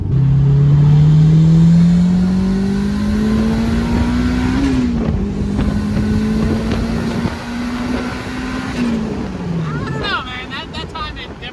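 A turbocharged Honda S2000 engine revs hard and climbs steadily in pitch, holding near the top before dropping off, loud and close with wind buffeting; a brief voice comes in near the end.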